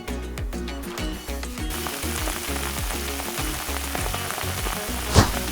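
Minced garlic dropped into hot oil in a wok over medium-high heat for Cantonese minced beef rice, a loud dense sizzle that holds steady with rhythmic scraping and stirring, plus one sharp clatter near the end.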